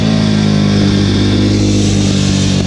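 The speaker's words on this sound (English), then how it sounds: "I just shifted down to second gear" A motorcycle ridden fast downhill on a wet, rainy road shifts down into second gear, its engine droning loud and close with strong low harmonics and steady wind and road roar throughout.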